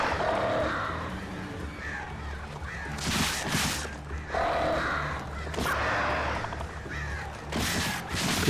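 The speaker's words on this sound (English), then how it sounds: "You see, I could do without birds attacking me now." Crows caw harshly and attack in the video game Alan Wake Remastered, several loud, close caws breaking out in bursts amid a rustling game ambience with low background rumble.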